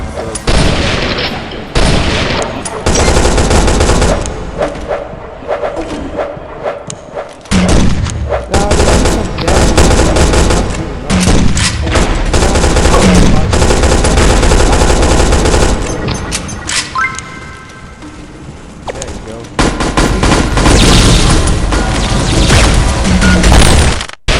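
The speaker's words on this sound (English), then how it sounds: "you really feel like you need assault guns for these." Assault rifle gunfire from the Pixel Gun 3D shooter game, loud rapid automatic bursts and crashing impacts running almost continuously, with brief gaps and a short quieter stretch near the end, no talking.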